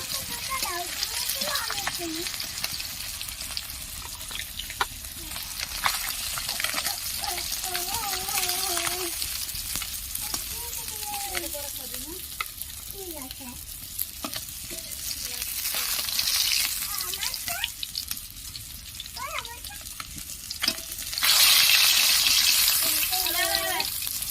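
Rohu fish frying in hot oil gives a steady broadband sizzle throughout, swelling louder near the end, with a voice talking over it at intervals.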